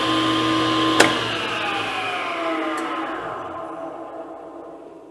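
SawStop table saw with its blade spinning: a loud, tonal motor whine opens with a sharp click, then the pitch slides downward and the sound slowly fades as the blade winds down.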